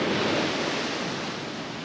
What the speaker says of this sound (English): that'll flap around in the surf